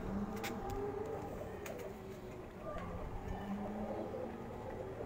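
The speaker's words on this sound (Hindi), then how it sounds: "इस कबूतर का शौक करें।" Soft, low pigeon cooing repeats through the clip beneath a steady ambient rumble, with a few faint sharp clicks near the start.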